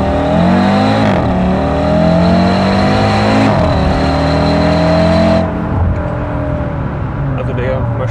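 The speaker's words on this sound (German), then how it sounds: "Beschleunigen wir mal von unten raus." Audi RS Q3 accelerating from low revs, engine note rising steadily through two gear changes before lifting off, loud and close inside the cabin.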